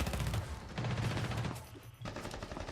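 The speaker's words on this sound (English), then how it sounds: "Gunfire from above, trying to find this defuse kit." Bursts of rapid automatic gunfire in the video game Rainbow Six Siege during a professional esports match, coming from above, loud and dense, with a short lull before the shooting resumes.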